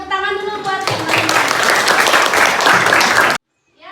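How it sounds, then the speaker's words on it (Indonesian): A class of students bursts into steady, dense applause for classmates in a school maths lesson, loud and continuous for about two and a half seconds before stopping abruptly, after a short stretch of speech at the start. "Kita tepuk tangan dulu buat teman-teman."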